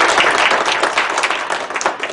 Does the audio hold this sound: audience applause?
yes